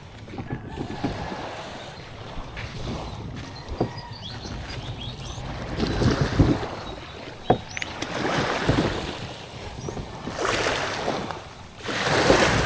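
Fishing kayak paddled on the open sea, with rhythmic paddle strokes splashing and dripping water against a steady backdrop of waves and wind, the strokes close and moderately loud.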